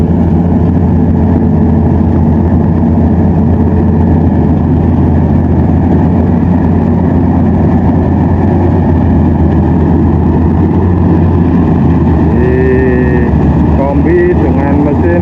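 A Bimo combine harvester working through a field of Mentik Wangi fragrant rice, its engine a loud, steady low drone throughout, with faint voices underneath.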